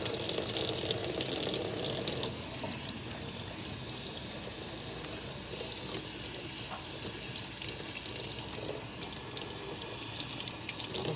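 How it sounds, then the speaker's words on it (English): Salmon being rinsed under a kitchen tap: running faucet water splashes steadily into a sink, loudest over the first two seconds, then continues as a slightly softer, even hiss and patter. "So I'm going to rinse it right now."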